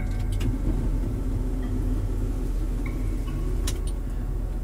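A 2012 Chevrolet Suburban with 200,000 miles and five past accidents rolls over a rough, gravelly surface, giving a steady low road rumble and droning cabin noise with a few faint ticks and rattles, no talking.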